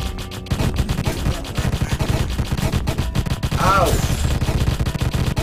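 Rapid weapon fire in the video game Deathstate, loud continuous bursts of shots layered with game music and effects, with a voice calling out briefly partway through.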